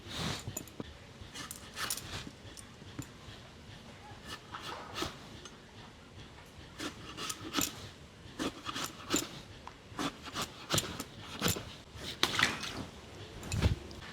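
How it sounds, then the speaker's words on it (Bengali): A knife slicing an eggplant into round pieces for frying produces faint, irregular sharp cuts and taps against a board, spaced unevenly over a quiet background. "এবারে বেগুনটা ভাজার জন্য বেগুনটাকে কেটে নেব আর এই বেগুনটাকে আমি চাকা চাকা করে ভাজবো"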